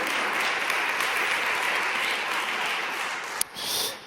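Continuous applause from a group, a dense even wash of clapping holding steady for several seconds before a brief sharp click and a short swell at the end, with no talking over it.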